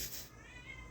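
A cat meows loudly and insistently close by, a drawn-out tonal cry with rising harmonics that fades into a lower continuing wail, no one talking over it.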